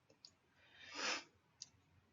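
Calculator keys are tapped in a few faint, quick clicks, with a soft brushing swell in the middle, heard close and quiet.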